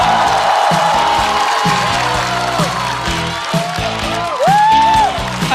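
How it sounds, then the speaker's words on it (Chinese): A stand-up comedy show's audience breaks into loud, sustained applause and cheering to welcome a comedian onto the stage, with a few whoops rising near the end over the steady clapping. "掌声欢迎毛豆"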